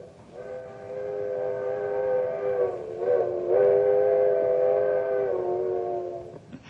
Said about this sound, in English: It's a locomotive whistle, the old-fashioned kind that was part of a coal-burning steam engine.